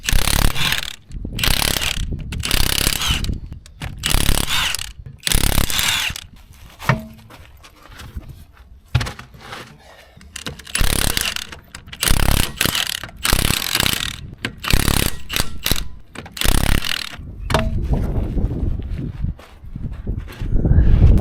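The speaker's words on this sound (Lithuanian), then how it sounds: "Tai dabar imu lauk ratus ir bandau imti lauk amortikus." Wheels and shock absorbers come off a BMW E46 328i with repeated loud bursts of ratcheting wrench clicks and metallic tool clatter, running close and steady throughout.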